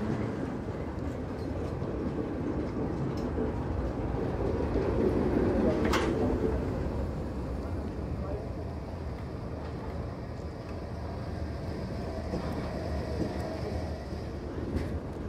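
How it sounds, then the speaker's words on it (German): A procession of historic trams in Potsdam, headed by a 1907 Lindner electric tramcar and followed by two 1960s trains, rumbles past in a steady rolling drone with faint bird calls and occasional narration. "Angeführt vom ersten elektrischen Fahrzeug, dem Lindner Wagen von 1907. Gefolgt von zwei Güterzügen aus der Mitte der 60er Jahre."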